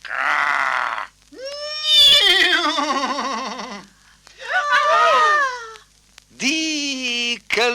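Horse neighing in an animated children's story, several loud whinnies in separate bursts, each rising and shaking before trailing off, with short gaps of silence between them.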